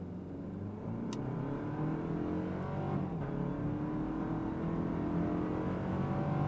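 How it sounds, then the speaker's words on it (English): A 2024 Toyota Land Cruiser SUV engine revs hard against the brake, then holds a steady, rising roar as it accelerates, loud and continuous throughout. "holding my foot on the brake, pinning the throttle, building up the revs, letting it go."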